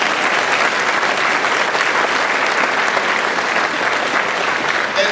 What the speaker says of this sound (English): Quick round of applause, but a loud one.